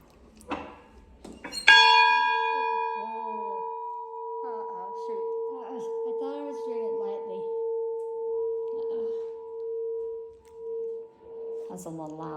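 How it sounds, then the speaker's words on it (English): The bell at White River Light Station is struck once and loudly, then rings on with a long, pure humming tone that slowly fades while people talk quietly underneath. "A man needs a bell ringing here."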